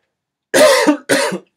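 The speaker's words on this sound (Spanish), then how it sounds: "sorry por tanta tos" Two harsh coughs in quick succession, close and fairly loud, with a short pause between them.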